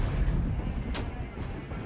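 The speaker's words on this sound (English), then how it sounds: "looks like there's some enemy artillery pieces here firing on the roadway" Enemy artillery fires in a Cold War real-time strategy game: one sharp, brief shot cracks out over a dense, rumbling battle ambience.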